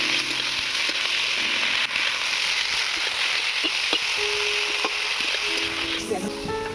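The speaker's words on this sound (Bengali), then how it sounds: "এবারে ভেজে নেব লোটে শাক।" Leafy note greens (amaranth) frying in a pan, a steady close sizzle and crackle running throughout with occasional clicks of stirring, and no speech over it.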